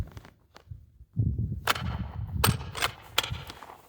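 A 6mm ARC rifle test shot fired outdoors, heard as a few sharp, loud cracks spread over several seconds with a rumbling low backdrop between them.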